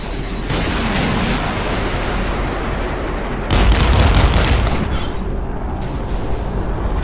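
Dense, continuous rocket launcher fire and explosions roar in the Modern Warships naval combat video game, a loud, steady barrage that swells heavier partway through.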